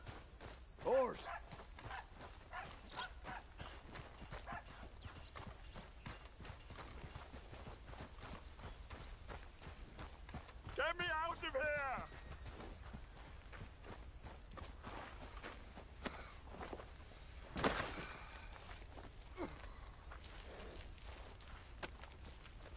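Steady rhythmic hoof clops of a horse walking at a steady pace in Red Dead Redemption run throughout at moderate volume, with a brief shout and a few other game noises.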